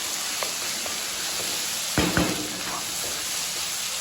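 Lentils frying in a pan give a constant even sizzle, broken by a couple of brief knocks or stirs halfway through.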